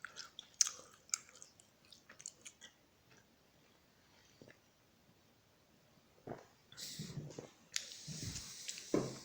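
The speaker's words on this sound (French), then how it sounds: "je mange une bouchée, je bois une gorgée" Someone chewing a mouthful of food up close: quiet, irregular wet bites and crunches in short bursts with pauses between them, and no talking.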